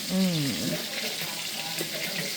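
Oil sizzles and crackles softly with peanuts frying in it in a wok, and a brief voice is heard at the start.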